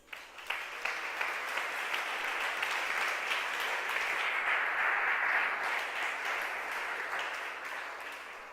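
A church congregation breaks into applause. Many hands clap in a dense, even burst that swells quickly, holds for several seconds and then gradually fades.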